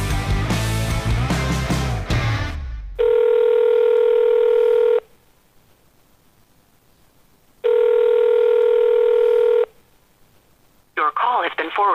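Telephone call to a hotline: a brief burst of music cuts off, then two long loud ringback tones separated by silence, followed by the start of a garbled automated connection sound.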